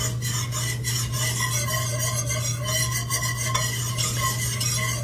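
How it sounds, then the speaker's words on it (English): A whisk scrapes and rasps steadily against a pot while a roux is stirred smooth to thicken potato soup, a continuous rubbing, scratching texture with a low steady hum underneath and no talking. "I'm just gonna whisk until this is smooth, and this will help to thicken our soup"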